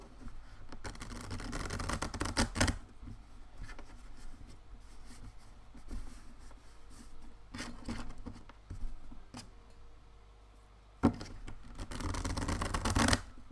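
A deck of tarot cards is riffle-shuffled in several bursts of rapid fluttering patter, quiet and close, with soft handling noises between them.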